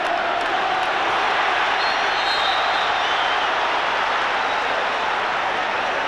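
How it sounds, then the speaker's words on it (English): A packed football stadium crowd at a 1996 FA Cup third-round match between Manchester United and Sunderland roars loudly and steadily, a dense wall of shouting and jeering that never lets up. "Crowd calling for a foul"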